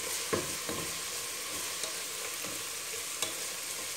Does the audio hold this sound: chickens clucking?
no